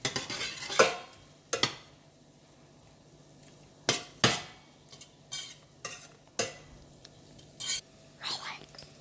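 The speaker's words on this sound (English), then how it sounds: "So generous amount of Thai curry paste, and now mix it nicely." A spoon stirs Thai red curry paste in a pot, giving sharp intermittent scrapes and clinks against the metal with soft gaps between, close and fairly quiet.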